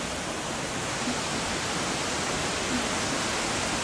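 A summer waterfall in Vermont cascades over rock steps, a dense unbroken roar of falling water that stays loud and even throughout with no voices.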